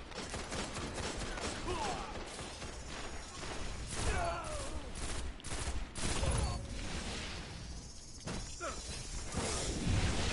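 Chaotic Destiny PvP combat crackles with rapid weapon fire, chirping ability effects and sharp bursts as a chasing grenade homes in. The dense, loud clatter runs throughout, with faint voices underneath.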